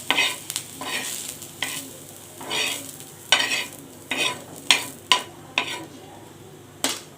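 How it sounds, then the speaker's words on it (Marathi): Dried coconut roasting in a pan is stirred with a utensil, giving repeated scraping and rattling strokes at an irregular pace over a faint dry sizzle, with no talk. "त्यानंतर इथे खोबरंसुद्धा मी असंच भाजून घेणार आहे"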